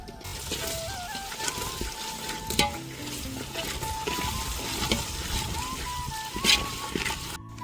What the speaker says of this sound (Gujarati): હવે નાખી દઈશું ટામેટા.